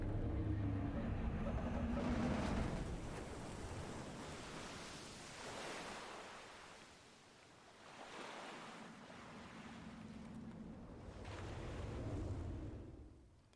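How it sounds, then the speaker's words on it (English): Water rushes and swishes steadily as a boat moves along in the video game Dredge, a broad wash of surf-like noise that swells and eases in slow waves. "Oh, look how quick our boat is going."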